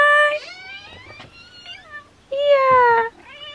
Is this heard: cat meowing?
yes